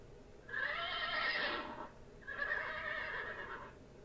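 A synthetic AI voice imitates a horse neighing, giving two separate whinnies, each lasting over a second with a short pause between them, fairly faint and without other sounds.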